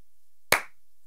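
One sharp, close hand clap rings out alone during a catching drill, a crisp single smack that decays quickly into silence.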